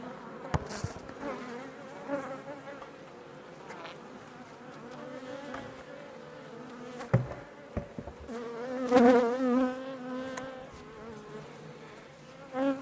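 Honey bees buzz steadily at an open hive frame at night, a dense continuous insect drone with occasional louder passes near the listener and a few knocks.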